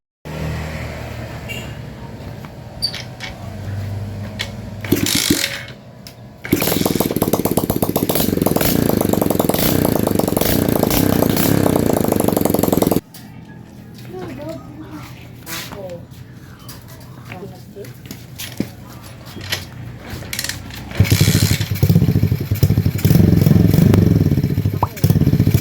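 Motorcycle fitted with a homemade exhaust pipe built from a butane canister runs in loud steady idle stretches, broken by a clattering pause and a later revving burst, with someone talking over parts.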